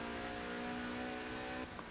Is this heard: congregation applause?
no